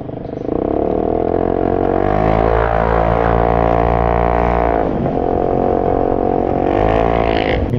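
An Italjet scooter with a loud aftermarket exhaust revs up close, a raw throaty roar that holds, dips briefly, then swells again in traffic, with no talking over it.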